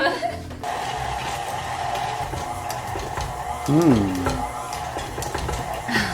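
Chocolate chip cookie dough is mixed in a bowl, a steady close scraping and stirring that runs throughout, with a brief voice partway through.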